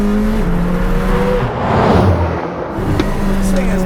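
McLaren Senna engine roaring loudly from close range, a heavy sustained drone that swells and dips as the revs change, with a voice briefly over it.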